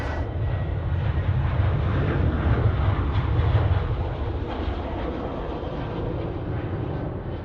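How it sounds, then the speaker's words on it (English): An Air Canada Boeing 777 arriving from Vancouver on approach to land at Sydney Airport, a steady broad jet roar heard at a distance, holding even and continuous throughout. "Next in is Air Canada 33 777 coming in from Vancouver."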